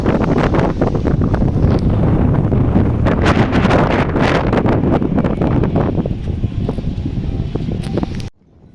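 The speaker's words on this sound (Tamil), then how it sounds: "இங்கே வேறு லெவலில் காற்று ஆளை பிடிச்சி இழுத்துட்ருக்கு" Strong wind roars loud and continuous against the microphone aboard a superfast train at night between Rameswaram and Kanniyakumari, with rumbling and rustling throughout before cutting off abruptly near the end.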